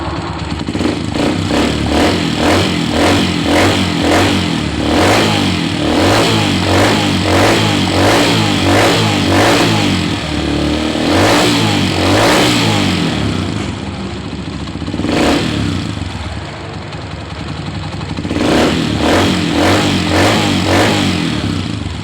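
A Honda TMX 125 motorcycle engine runs close and loud, idling with a steady clattering beat and revving up in repeated surges before settling back, no talk over it.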